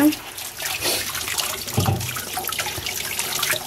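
Baby squash and cucumber are rinsed under a running kitchen tap. Water splashes and gurgles steadily over the vegetables, with a voice faintly audible in the background.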